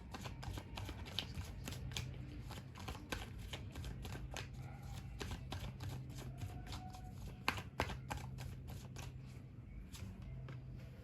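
A tarot card deck being shuffled and cut by hand, a dense run of crisp, rapid card riffles and flicks close up, continuing steadily with a few sharper snaps and no speech.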